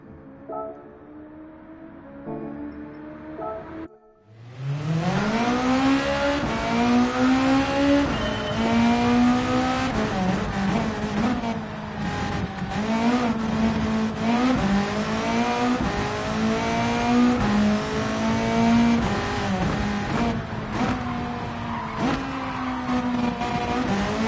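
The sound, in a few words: Ferrari race car engine on hot lap in Gran Turismo 7 video game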